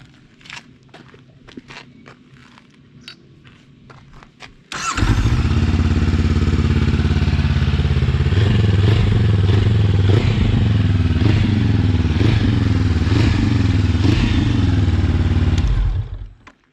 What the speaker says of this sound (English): I'm going to give it a little bit of a start now so you can hear the superior of the Pipeworks exhaust